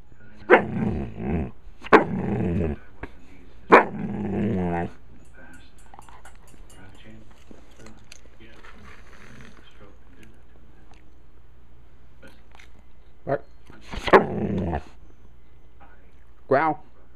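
A person growls and barks in imitation of a Shiba dog, several short loud voiced bursts spaced apart, with quieter sounds between.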